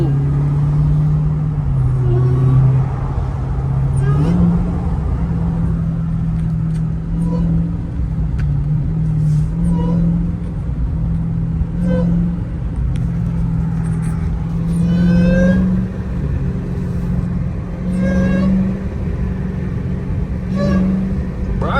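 A Dodge Hellcat's supercharged V8 rumbles and revs continuously while driving at night, its deep engine note rising and falling with light throttle under steady road noise.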